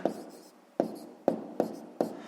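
A pen writes a math answer on paper during a sixth-grade geometry exercise, giving five close, fairly loud scratchy strokes in a quick uneven rhythm with no voice.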